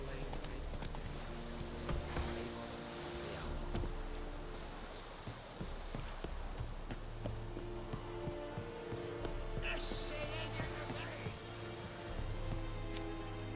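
Horse hooves clip-clop at a steady walking rhythm during riding in The Witcher 3, quiet under ambient game sound, with a brief voice near the start.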